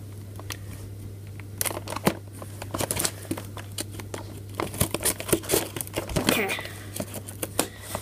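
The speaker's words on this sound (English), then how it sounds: "I'll just grab my scissors, cut this thing open." Scissors snip and slice through the cardboard packaging of a Pokémon Pikachu Power theme deck, giving scattered close crinkling cuts and rustles over a steady low hum, with a few sharper snips toward the end.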